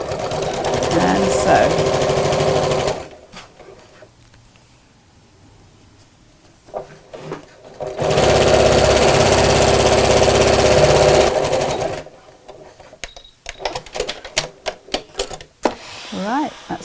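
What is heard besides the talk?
sewing machine sewing a drawstring beach bag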